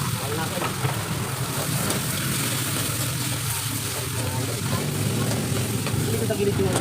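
Garlic, onion and tomato sautéing in a pan give a dense, continuous close-up sizzle with stirring scrapes, while a voice talks underneath.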